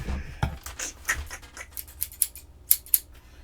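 A plastic bag being cut apart with scissors at a crafting desk, a few close, crisp snips and rustles spaced irregularly, quiet and without talk.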